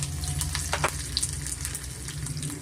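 Mustard seeds, chana dal, urad dal and curry leaves sizzle in hot oil over a medium flame for radish palya, a steady close crackling hiss with scattered pops and no talk.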